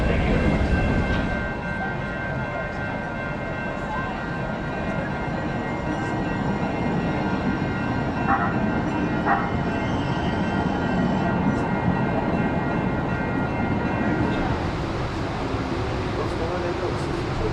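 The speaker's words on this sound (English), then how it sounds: "we do have a 4-car train that'll be entering the station momentarily" A 4-car trolley train rumbles into a San Diego station near the Comic-Con venue, a loud sustained rolling drone with tonal whine and squeal that stays close throughout, with people talking around it.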